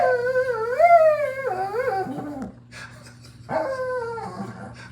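A dog named Daisy lets out drawn-out, rising howling barks and whining yelps, close and fairly loud, with a brief pause between two bursts and no talking.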